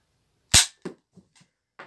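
A single sharp gunshot at a shooting range, loud and close, followed by a few faint, brief clicks and knocks, with no talking.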